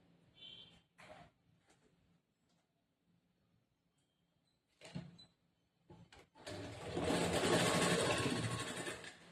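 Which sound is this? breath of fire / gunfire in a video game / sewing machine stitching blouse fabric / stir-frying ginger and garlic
sewing machine stitching blouse fabric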